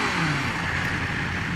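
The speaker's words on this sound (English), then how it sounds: "mechanical sound of an inline four" Steady mechanical hum of a 2020 BMW S1000RR inline-four motorcycle engine held at high revs, loud and close throughout with no pauses.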